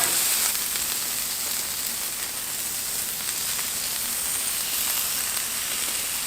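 Steak sizzles on a Blackstone griddle with a constant, dense hiss and crackle, close and fairly loud, holding steady throughout without any talking.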